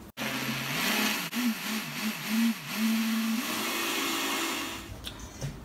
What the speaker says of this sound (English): with my eggs in my blender. I add half a cup of water, 2 cups of almond flour,